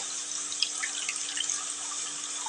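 Soaked tamarind water is strained through a strainer. A steady, close trickle and splash of liquid runs without a break.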